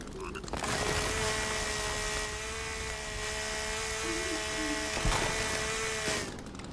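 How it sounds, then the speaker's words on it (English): Hole cutter power tool in a forest survival video game, a loud, steady motorized whir running for several seconds with a brief clunk near the end before it winds down. "Hole cutter, bro. Hole cutter."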